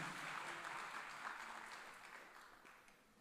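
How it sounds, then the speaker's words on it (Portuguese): A church congregation claps steadily in a dense wash of applause that gradually fades toward the end, heard from a distance in a large room. "Aplauda o nome do Senhor Jesus."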